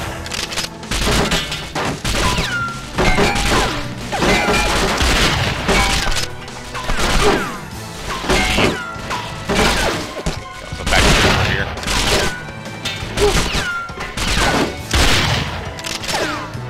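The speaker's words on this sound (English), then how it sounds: "This gun seems to alert everybody when I shoot it" Gunfire from a weapon in the video game James Bond Nightfire rings out in loud, rapid, repeated bursts for the whole stretch, with no pause in the shooting.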